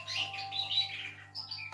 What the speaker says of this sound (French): Alors, vous entendez mon oiseau, hein, c'est un vrai.